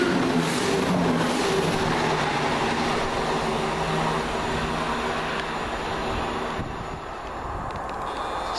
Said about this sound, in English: Next on through for Chiltern Railways, 1H45 off Birmingham Snow Hill, going to London Marylebone via Banbury